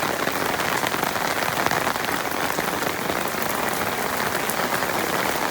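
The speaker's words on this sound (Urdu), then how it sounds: "آج کل میں یہ بارش نہیں ختم ہونے والی" Heavy rain pours steadily onto surfaces outside a home with solar panels, a dense, continuous hiss with scattered drops, close and loud throughout, with no voices.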